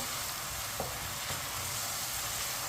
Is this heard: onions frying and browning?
yes